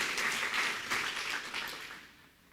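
A church congregation breaks into applause during a Sabbath service, a dense wash of clapping from many hands at moderate distance that swells and then fades out.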